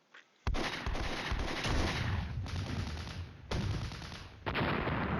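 Sustained bursts of gunfire aimed at a helicopter and tanks in the Flashpoint Campaigns war game, heavy and rumbling, coming in several loud volleys separated by brief cuts.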